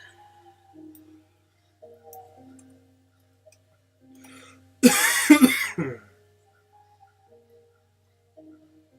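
A man gives a short burst of several close coughs in an otherwise quiet room, with faint small ticks and brief sounds before and after it.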